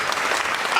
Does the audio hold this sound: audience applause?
yes